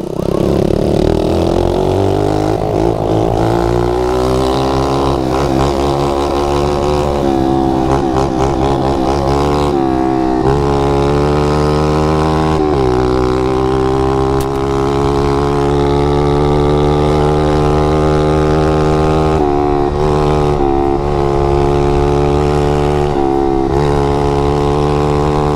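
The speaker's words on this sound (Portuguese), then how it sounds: "Acelerando a mini moto antes, mano." A mini motorbike engine revs and accelerates continuously, its loud whining tone climbing and dipping in pitch over about 25 seconds, close by with no talk over it.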